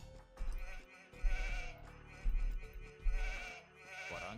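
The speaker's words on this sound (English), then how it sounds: "Oh, there's some sheep over there." Sheep in the Age of Empires II video game bleat in several separate calls, loud and close, with short gaps between them and a faint game background underneath.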